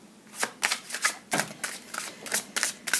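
Tarot cards being shuffled for a daily reading, heard as a series of quick, crisp riffling bursts in a steady rhythm, close and fairly loud, with no voices.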